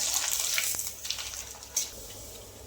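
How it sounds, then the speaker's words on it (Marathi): Bhagar papad fries in hot oil, puffing up with a bright crackling sizzle that is loud at first and then settles into a fainter, softer bubbling. "तुम्ही बघू शकता तेलात टाकल्या उशीर हा पापड किती मस्त असा फुलून वर येतोय."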